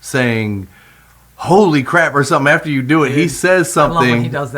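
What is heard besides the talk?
No everyday noises stand out.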